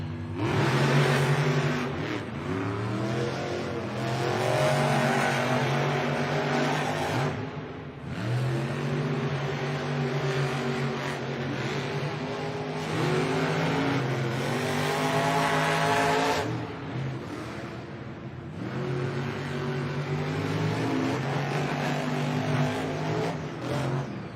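Monster truck engines roar loudly and continuously at a Monster Jam stadium freestyle event in San Antonio, with surging revs and a steady dense rumble throughout.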